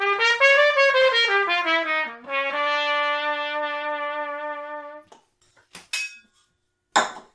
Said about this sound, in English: the three common mutes are the straight mute